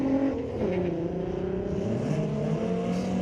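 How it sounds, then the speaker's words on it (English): A Volkswagen Beetle drag car runs at a raceway at a street-legal drag night, its engine droning steadily and fairly loud, with a rough, slightly wavering pitch. "Oh, it's good to see the Beetle fired up."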